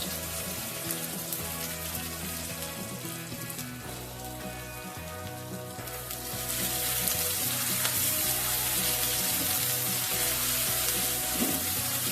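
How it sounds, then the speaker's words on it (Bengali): Onion and garlic frying in white oil in a wok, a loud continuous sizzle that surges even louder and brighter midway, with no talk. "প্রথমে কড়াতে আমি দিয়ে দেবো কিছুটা সাদা তেল, প্রথমে দেবো পেঁয়াজ, রসুন,"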